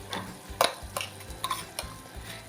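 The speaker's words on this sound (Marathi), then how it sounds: "जेवढं मी हिरवं वाटण घेतलं होतं तेवढं सर्व घालून घेते" Green paste stirred into cooked shrimp in a pan, a few close, brief scrapes and clinks of a spoon against the pan over a low background hum.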